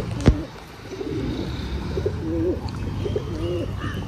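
Pigeons back from flight at a newly set-up loft coo close by in three distinct, repeated warbling phrases, opened by a single sharp click, over a low steady background hum.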